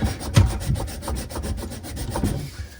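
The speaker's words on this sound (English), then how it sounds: "So just go ahead and sand them down a little bit." Close, loud rhythmic rasping as the ends of metal pipes are sanded by hand while fitting compression angle stops, quick back-and-forth strokes repeating steadily without speech.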